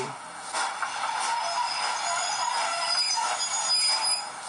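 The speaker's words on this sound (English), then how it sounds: "carriage brake squeal." A high, metallic squeal of model train carriage brakes rings out over rolling rail noise, fairly loud and sustained throughout.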